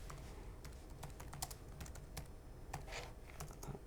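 Rapid, irregular keystrokes clatter on a computer keyboard, a steady stream of soft clicks close by with no talking.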